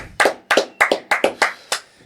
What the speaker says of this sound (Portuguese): Uma salva de palmas pro Rodrigão